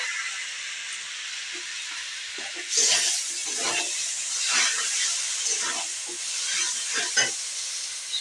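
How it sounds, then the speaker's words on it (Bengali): Tomato frying in a pan with a spice mixture, a steady close sizzle and hiss that swells with bursts of crackling spatter as it cooks. "আমি এবার টমেটোটাকে ভালো করে একটু ভেজে নেবো"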